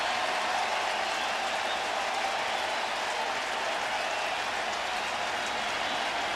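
At a baseball stadium, a large crowd roars and applauds in one continuous, dense wash of cheering that stays loud and steady throughout, without separate voices standing out.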